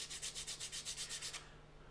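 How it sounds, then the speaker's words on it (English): Sanding stick rubbed back and forth over a wooden bevel on a model Aviatik D.1 aircraft, about eight quick, even strokes up close, then stopping, with no talking. "just shallow out the angle of the sanding stick"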